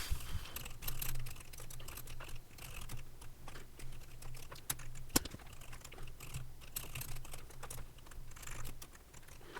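Steady typing on a computer keyboard while writing an 8080 assembly test program: quick, irregular key clicks close by, with one sharper tap midway and a faint hum beneath, no speech.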